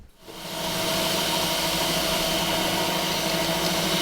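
A mixing machine, likely a food processor, runs steadily with flour, butter and ice water inside, a loud continuous whirring drone that starts after a brief quiet moment and holds at an even level with no talking.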